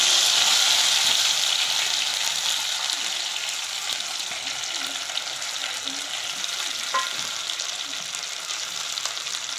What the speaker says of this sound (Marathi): हे आपल्याला फ्राय करून घ्यायचे.